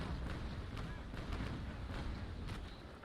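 Ship cannons firing a broadside in Naval Action, a rolling series of deep booms about half a second apart, heavy and muffled, over a low rumbling background.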